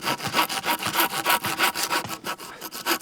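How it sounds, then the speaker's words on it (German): A hand saw cuts through wood at a bushcraft camp in quick, steady back-and-forth strokes, each pass a rasping scrape. The sawing is close and continuous, with no voices. "Dann werden wir mal sägen hier."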